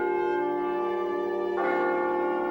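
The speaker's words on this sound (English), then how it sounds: "I heard the first muffled tone of the bell of old Nassau Hall." The old bell of Nassau Hall at Princeton tolls with a rich, sustained ring, and a second strike comes in partway through over the lingering hum, loud and resonant with no voices.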